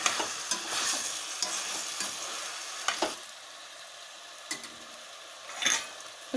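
Chicken and tomato being stirred in oil in a pan, a soft continuous sizzle with a spoon scraping and knocking against the pan in irregular strokes, close and moderately loud, with no talking.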